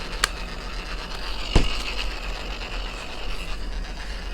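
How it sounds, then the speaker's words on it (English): The spring-loaded mechanism of a Star Wars Black Series Riot Baton toy is pressed and turned, giving two or three distinct mechanical clicks close by against a faint background. "press and turn spring-loaded mechanism to retract prongs and shut off light effects"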